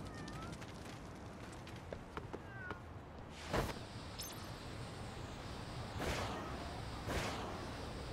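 A cat in the Lost Judgment video game on Xbox Series S gives a couple of faint meows amid steady game ambience, followed later by a few whooshing swishes.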